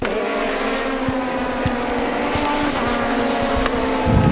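A white BMW touring car squeezes past on the inside during a 2006 WTCC race at Curitiba, Brazil, its engine a loud, continuous racing drone that swells slightly toward the end, with no talk over it.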